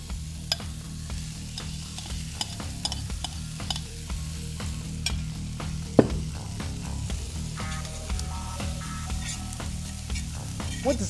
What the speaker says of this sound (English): So that's sauteing off. What I'm going to do is add my fettuccine to it.